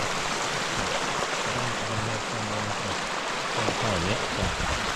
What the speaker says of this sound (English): There's a really decent sized creek right in front of me.